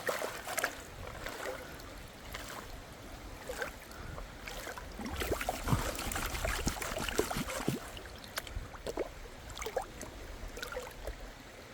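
Water swirls and sloshes around a gold pan as it is spun, a close, steady wash of trickling and splashing with small knocks of gravel.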